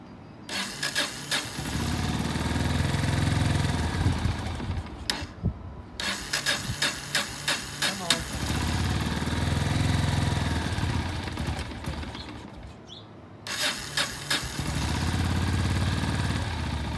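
A Yamaha SRX 400 motorcycle engine, an early vacuum-pump model on choke after four weeks unused, sputters and catches, running in uneven rough bursts with brief cut-outs between, loud and close.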